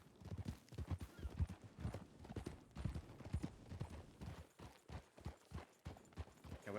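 Horse hooves clip-clop in a video game, a steady run of clopping steps with the occasional whinny. The sound is faint and carries no talk.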